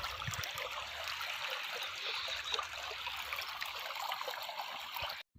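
Water gushes steadily from a motor pump pipe, a constant splashing rush that runs unbroken and then cuts off abruptly at the end.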